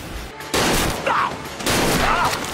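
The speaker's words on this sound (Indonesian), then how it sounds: "orang ini punya pistol di tasnya dan mulai menembak" Pistol gunfire in a Korean drama scene: loud, close bursts of shots in two clusters, with a short quiet gap before the first burst and dense rapid cracks following it.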